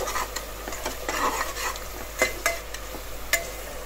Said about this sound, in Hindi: अब इसे हम अच्छी तरह से भून लेंगे। इसको बहुत ही अच्छी तरह से भूनना है।